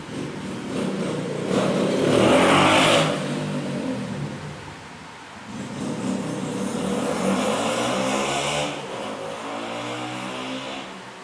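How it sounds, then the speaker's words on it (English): A motorcycle passes by outside, its engine swelling to a loud rev, fading, then rising again in a second, longer pass before easing off, heard alone at moderate distance. "Let me wait till that motorcycle stops,"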